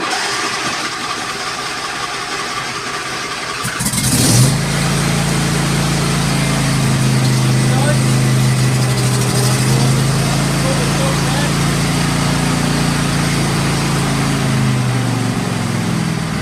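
A riding lawn mower engine, started with the choke fully on and the key turned, cranks and catches, then settles into a loud, steady rumbling idle close by, with a voice speaking briefly over it.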